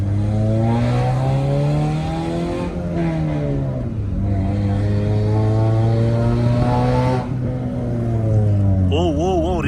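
Toyota Corolla with faulty coils and a crankshaft issue accelerating on the road, engine drone rising and falling in pitch through repeated gear pulls, loud and close from inside the car.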